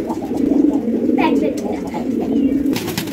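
Pigeons coo in a loft where pairs are being matched, a steady low murmuring of several birds that runs throughout at close range, with a few brief sharper calls over it.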